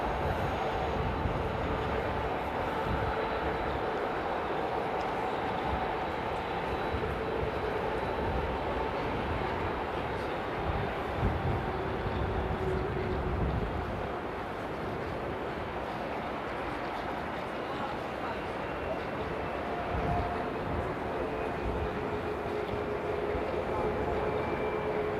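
Jet airliner rolling slowly toward lineup on runway 18L at Amsterdam Airport, a steady broadband engine rumble heard from a distance with soft background murmur and no distinct spikes.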